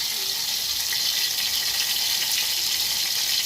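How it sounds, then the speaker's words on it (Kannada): Green chillies frying in hot oil for a masala give a steady, close sizzle with a soft crackle, even and unbroken throughout, with no voices. "ಇಲ್ಲಿ ಎಣ್ಣೆಯಾಗ ಮೊದಲ ಒಂದು ಸ್ವಲ್ಪ ಹಸಿಮೆಣ್ಸಿನ್ಕಾಯಿನ ಫ್ರೈ ಮಾಡ್ಕೋಬೇಕು ನೋಡ್ರಿ ಮಸಾಲೆಗೆ"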